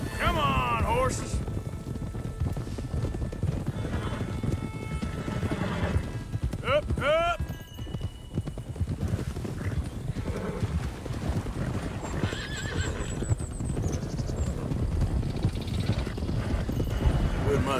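Horses in the Red Dead Redemption 2 video game gallop with steady, rapid hoofbeats and let out several whinnying neighs, loud and close, while voices shout over the running herd.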